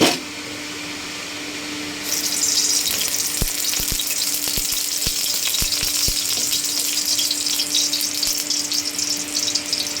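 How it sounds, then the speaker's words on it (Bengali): Sausages fry in a little oil, with a loud, steady sizzle that jumps up after about two seconds and keeps going. Sharp clicks and knocks from stirring or turning the sausages come through in the middle. "এখন এগুলা ভেজে নিব। এখন সামান্য পরিমাণে তেল দিয়ে দিব"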